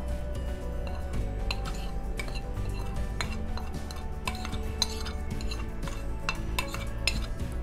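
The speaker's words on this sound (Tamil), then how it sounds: "இதுக்கு தேவையான அளவு உப்பு எல்லாத்தையும் நல்லா மிக்ஸ் பண்ணிக்கோங்க" Chicken tikka marinade with lemon juice, ginger-garlic paste, chilli powder, garam masala, cumin, pepper, turmeric and salt being stirred in a bowl, a steady clinking and scraping of a spoon against the dish, close and continuous, with no talk.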